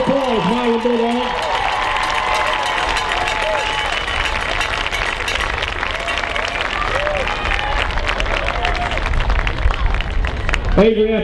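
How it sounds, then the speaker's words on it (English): Applause keeps rolling through the stands at a high school football game during a jersey retirement, a loud, steady crowd roar of clapping and cheering, with an announcer speaking over it at the start and again at the end. "Let's give him one more round of applause, Milan Bulldog."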